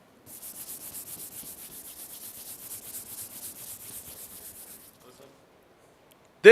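A hand or applicator rubs across rough, unpolished car paint, giving a steady dry scratchy hiss for about five seconds, then a brief pause and a sudden loud knock at the end.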